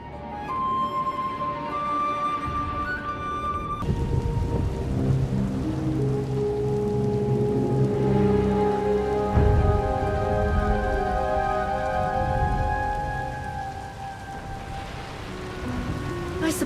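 Steady heavy rain pours throughout a video game storm, with a low rumble of thunder building in the middle and layered musical tones underneath, no voices.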